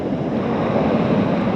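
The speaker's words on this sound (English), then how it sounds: "Now you can finally see the shore and the water coming up." Ocean surf washing up on the Outer Banks shore, a steady broadband rush of water with wind buffeting the microphone, close and continuous.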